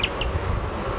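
Honey bees swarm at a busy open hive, giving a close, constant buzzing hum with a couple of brief higher whines of individual bees passing by.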